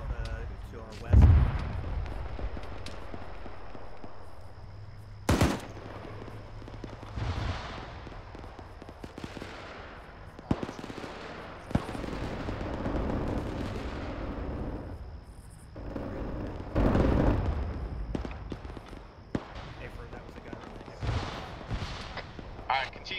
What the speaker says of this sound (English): Possibly getting shots out to our west.